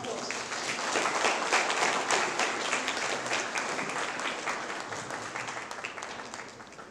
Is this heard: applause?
yes